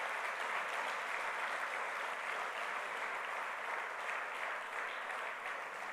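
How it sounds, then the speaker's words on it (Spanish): A church congregation applauds the Lord Jesus Christ with a steady, even round of clapping from many hands, heard at a moderate distance and sustained for several seconds without speech. "Denle un fuerte aplauso al Señor Jesucristo."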